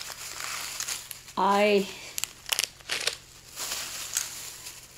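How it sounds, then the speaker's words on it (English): Plastic packaging crinkles close by in several short crackling bursts, with a brief spoken sound between them. "So, sorry about all the crinkling."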